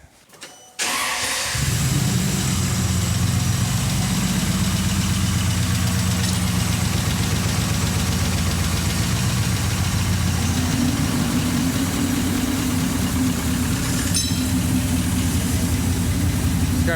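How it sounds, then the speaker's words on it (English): A COE ramp truck engine catches and then idles low and steady, a loud continuous rumble close at hand that holds throughout after the brief start. "It's got pretty low idle."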